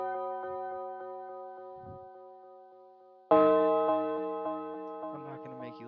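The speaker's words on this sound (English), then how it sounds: "You need to find yourself a bell that sounds like the yeet bell" A bright, bell-like synth tone repeats in a steady rhythmic pattern for a Memphis phonk beat. A louder, fuller note enters partway through and rings out with echo.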